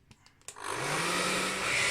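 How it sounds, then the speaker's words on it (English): A hair dryer blows steadily on a Hasegawa 1/48 scale SH-3H Sea King model kit, a loud continuous whooshing roar that switches on after a few faint clicks and holds for the rest of the moment. "I'm going to put the hairdryer on it"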